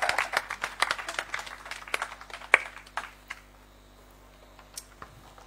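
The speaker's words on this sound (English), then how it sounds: "Please clap for me." Scattered applause from a small symposium audience, a thin patter of claps that is busiest at first and trails off into a few isolated claps over a quiet room.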